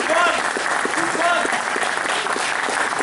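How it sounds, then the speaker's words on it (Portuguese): Theater audience applauding a drummer introduced during a progressive rock band's concert, a dense steady patter of many hands throughout, with voices mixed in underneath. "uma salva de palmas"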